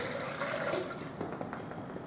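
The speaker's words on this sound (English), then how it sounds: "I'm going to pour in a litre of tap hot water," About a litre of hot tap water pours into a kitchen bowl for a layered dog dinner, a soft, continuous rushing and splashing that stays fairly quiet and steady throughout.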